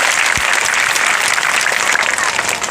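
Loud, dense clapping from an audience at a Rewa evening gathering, continuous and close for the whole stretch with no talking.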